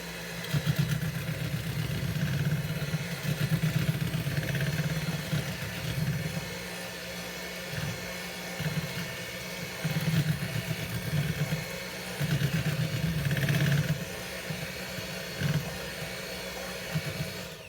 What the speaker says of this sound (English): You want to mix this on a relatively low speed so that you don't make a mess.